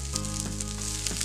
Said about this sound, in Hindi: इसके अंदर हम डाल देंगे छोटा टुकड़ा बारीक कटा हुआ अदरक का।